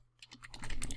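Fingers type quickly on a computer keyboard, entering a website address. A short burst of soft, close key clicks builds from quiet to a denser patter over about a second, with no one speaking.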